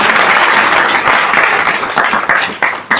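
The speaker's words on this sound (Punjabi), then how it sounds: "ਸਭ ਤਾੜੀ ਲਾਵਾਂਗੇ" A church congregation clapping together, a loud, dense round of applause that holds steady and then thins into scattered final claps.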